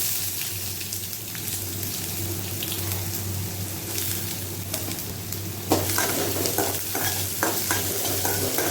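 Garlic and chopped onions sauté in a pan for an office lunch, a steady broadband sizzle with a low hum beneath, while a spoon stirs with soft scraping clicks that grow busier in the last few seconds.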